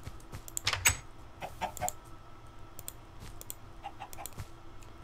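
A chicken clucks in short, scattered bursts amid a busy background of faint clicks and rustling, with no one speaking over it.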